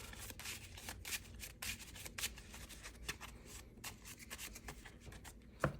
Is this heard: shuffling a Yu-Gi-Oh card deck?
yes